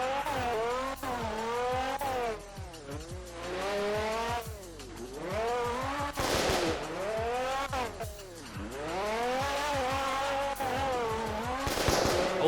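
A fast race car in a Roblox game squeals its tires through a spin-out, wailing, rising and falling screeches over a loud engine note, with sharp rattling bursts and no talking.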